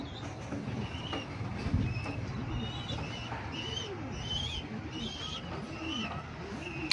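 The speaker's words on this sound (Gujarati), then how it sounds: "આપણા આટલા કબૂતર છે" Pigeons coo steadily on a rooftop, several rolling calls overlapping at moderate distance over a continuous background hum, with faint chirps higher up and no talking.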